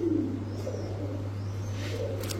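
Pigeons at a bird market give soft, low cooing close by, a steady murmuring coo running through the short stretch with faint background hum and no talk.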